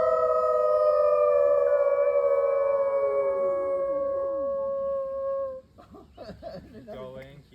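A group of people at a wolf sanctuary howl together in long sustained wavering tones, imitating wolves, for about five seconds before the howls break off into laughter and chatter.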